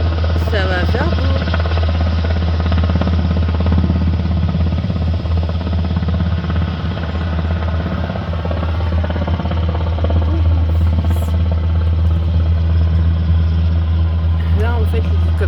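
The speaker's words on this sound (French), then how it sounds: "l'hélicoptère, il est juste là dans les arbres. Il est en train de se poser par là" A helicopter sets down close by among trees, its engine and rotor making a loud, steady, droning hum that lasts throughout, with a person talking over it.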